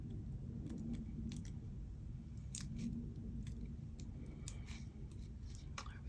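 Scissors trim the edges of a hot glue journal closure in faint, scattered little snips and clicks against a quiet background.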